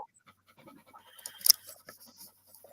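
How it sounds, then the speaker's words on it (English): A dog pants with quick, soft breaths close to the microphone in a quiet room, with small scratchy rustles around it. "I hear the dog."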